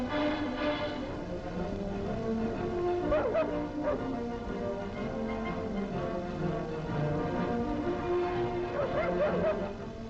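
A squadron dog in a 1944 German wartime newsreel gives a few yips and short barks over steady background music.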